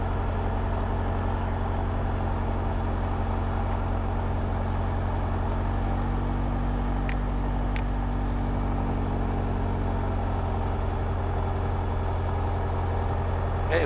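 A light aircraft engine runs steadily at an airfield near Chavenay while the plane prepares to line up on runway 26, giving a loud, continuous low drone with a faint rumbling texture throughout.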